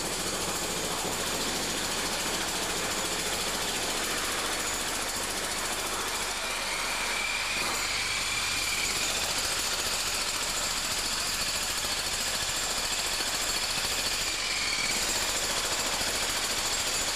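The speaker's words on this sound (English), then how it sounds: "I think this is where they're drilling channels in the floor to lay cables" Drilling channels into a shop floor for cable runs during a store refit, a steady, loud, continuous hammering drone with mechanical rattle that runs unbroken throughout, with no talk.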